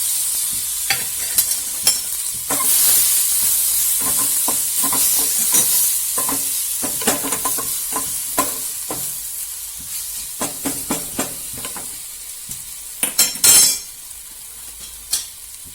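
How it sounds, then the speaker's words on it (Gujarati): Mustard seeds, cumin and ginger-chili paste fry in hot oil for palak muthiya, a loud steady sizzle and hiss close by, with a spoon stirring and scraping the pan and seeds popping throughout. "રાઈ નાખશું, જીરું નાખશું અને આ આદુ મરચાંની પેસ્ટ પૂરી નાખી દઈશું આપણે."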